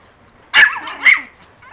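A male dog barks twice, sharp and close, about half a second apart, with quiet between and after the barks.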